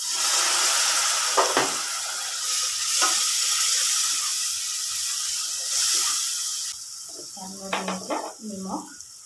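Pav bhaji masala hisses and sizzles in a pan as a little water goes in, a broad steamy hiss that fades toward the end, where a voice speaks briefly.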